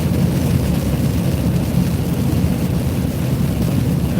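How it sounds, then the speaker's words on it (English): Steady rain falls outdoors, a dense, continuous hiss and patter that stays loud and even throughout with no voices over it. "But it's raining out, guys, so it's making a lot of noise."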